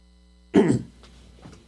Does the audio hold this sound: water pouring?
no